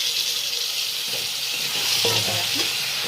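Mushrooms fry in a hot pan with a steady, bright sizzle, joined midway by a few soft scraping stirs of a spatula, close and continuous with no voices.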